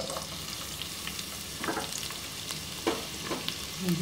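Steady sizzling of onions frying in hot oil in a pan, with occasional scraping stirs, close and continuous.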